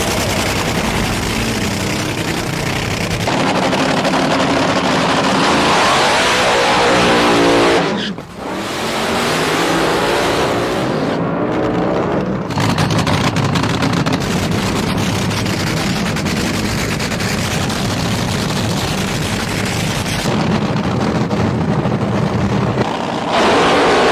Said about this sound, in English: I drive the Osh Nostalgia Top Fuel Dragster.